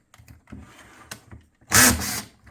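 A hand drill with a 9/64 bit bores neck holes in a Stratocaster guitar body, giving a short loud whirring burst after a few light handling clicks and knocks, close by.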